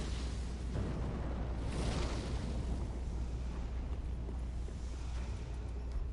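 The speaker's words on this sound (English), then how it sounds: "the Great Chaos Fire Orb hits the ground and explodes" A Great Chaos Fire Orb from the Dark Souls 3 video game explodes with a loud, sustained rumbling blast that fills the whole stretch with dense roaring noise and no speech.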